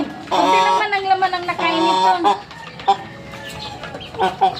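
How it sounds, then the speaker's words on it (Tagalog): Chickens cluck and squawk nearby in bursts, hungry for food, with a person talking in Filipino over and between the calls. "Ayan, ito yung alaga naming manok."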